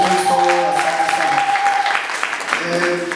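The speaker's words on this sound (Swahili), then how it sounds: "Makofi mengi kwa Yesu Kristo" Church congregation clapping at a Sunday service, a short burst of applause heard together with sustained singing or chanting voices.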